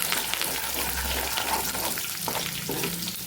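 Garlic paste and curry leaves sautéing in hot oil for Kathiyawadi vagharelo rotlo, a steady loud sizzle and crackle throughout, with occasional stirring scrapes near the end.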